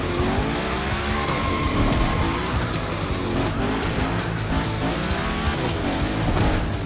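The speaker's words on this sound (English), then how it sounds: "this guy ahead, he's doing great at donuts" A car in The Crew Motorfest racing game spins donuts, its engine roaring steadily while the tires squeal and skid continuously and loudly for the whole stretch.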